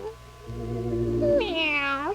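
A human voice imitates a cat, giving one drawn-out rising and falling meow that is close and clear, performed as a children's show character.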